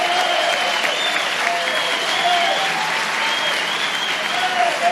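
A large crowd at a Brazilian political session applauds loudly and steadily in a dense, unbroken roar of clapping, with a few voices faintly mixed in.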